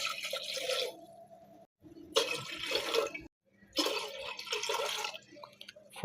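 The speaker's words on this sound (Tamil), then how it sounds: "கிளாஸ் ஆஃப் வாட்டர் ஆட் பண்ணிட்டேன்." Water pours from a glass into a cooking pot for black rice porridge (karuppu kavuni kanji) in three separate steady splashing pours with short pauses between them, close and clear, no speech.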